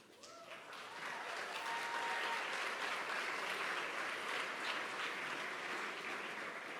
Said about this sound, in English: That's worthy of an applause, yes.